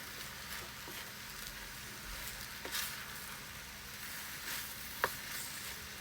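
Eggplant is stir-fried in a pan, giving a soft steady sizzle with occasional light scrapes and taps of stirring, faint and close.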